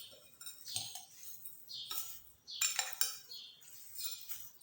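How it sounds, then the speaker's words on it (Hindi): A metal spoon mixes sev chaat made with dal moth in a dish, giving quiet, close, irregular clinks and scrapes in short bursts with pauses between them. "तो अब मैं इसको कर दूँगी अच्छे से मिक्स"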